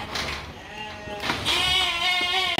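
A Merino-Suffolk crossbred sheep, a two-month-old male, bleats loudly nearby, a wavering cry that rises midway and holds, with some background rustle around it.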